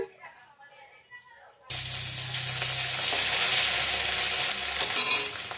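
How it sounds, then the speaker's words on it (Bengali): After a quiet opening, a loud, steady sizzle bursts out as oil hits a hot kadai, hissing continuously to the end. "তেল দিয়ে দিলাম কড়াইতে"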